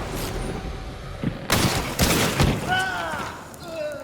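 Rifle shots from a Nagant Officer Carbine Deadeye in a first-person shooter game ring out loud and close, several booming reports in quick succession over continuous game ambience.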